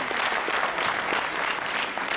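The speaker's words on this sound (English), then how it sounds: "A big round of applause for Sri Vidya Garu." Audience applause after a performance at a Telugu Ugadi cultural event, a dense continuous burst of clapping, loud and close, with no talk over it.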